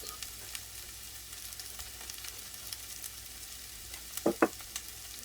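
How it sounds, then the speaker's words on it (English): Beef, sausage and crushed tomato sauce simmering in a pan over low heat, a soft continuous sizzle and bubble close by, with a couple of brief utensil clinks near the end. "And we're going to let this simmer on a lower heat."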